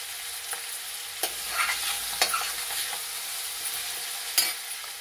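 Green chillies fry in hot oil with baby potatoes for a curry, giving a steady soft sizzle broken by a few sharp clicks and spatters, close and fairly quiet, with no voices.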